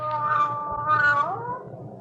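A cat gives one drawn-out meow, close and clear, rising and then sliding downward at the end, with a low background hum behind it.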